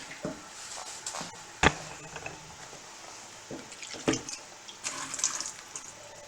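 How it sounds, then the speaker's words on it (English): Carrots are rinsed under a kitchen tap, with running water splashing intermittently into a sink and punctuated by sharp knocks and clatters close to the microphone. "I'm going to rinse them off and put them in the boiling water."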